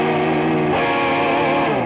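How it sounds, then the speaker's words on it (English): A PRS electric guitar played through a distortion tone with a direct, Fender-style mid-range voice, a sustained chord ringing loud and steady, then shifting to a new chord partway through, with no talking. "I feel like it sounds good on the distortion tone"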